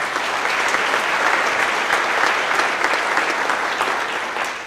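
A crowd at a monthly company celebration gives a colleague a loud, dense round of applause, continuous clapping that holds steady throughout with no voices standing out.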